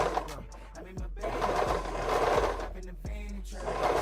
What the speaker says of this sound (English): I'm going to take this stitch all the way from the one side to the other side of the dress